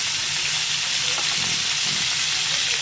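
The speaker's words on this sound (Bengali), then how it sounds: "এইবার এগুলোকে ভেজে নেবো ভালো করে উচ্ছে আর কুমড়োটাকে ভালো করে ভেজে নিয়েছি" Bitter gourd and pumpkin pieces fry in a pan with green chili, producing a steady, fairly loud sizzling hiss with a few soft stirring knocks, with no voices.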